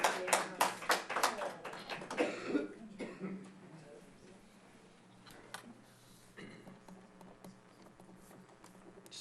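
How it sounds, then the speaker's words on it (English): Audience clapping at a city commission meeting in Royal Oak, a brisk burst of many hands clapping in a large room that fades after about three seconds into quiet room noise, scattered coughs and a few faint knocks. "clapping, it's great to show your support"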